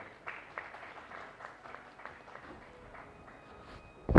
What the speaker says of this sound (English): on stage with a huge round of applause